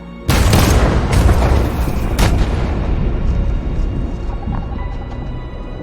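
A single loud, close blast of gunfire in the Detroit Become Human video game, followed by a long rumbling boom that slowly decays.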